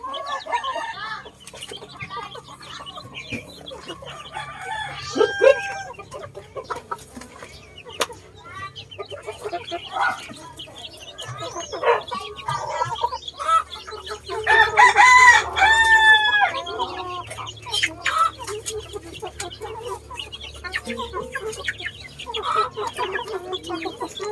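Backyard chickens cluck steadily, with a rooster crowing loudly at close range several times, while a few pecks and faint background noise continue throughout.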